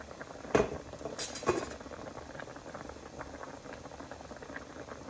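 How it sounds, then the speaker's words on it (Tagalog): Steady bubbling simmer of pompano paksiw broth in a pot, with a couple of sharp metallic clinks near the start and no talking. "Kumukulo na siya."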